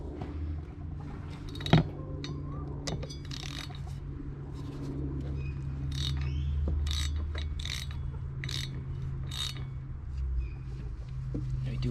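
A ratchet tightens the crank bolt on a Yamaha Moto 4 ATV, making a series of crisp clicking bursts at a steady pace, close and moderately loud over a low background hum, with one sharp knock early on.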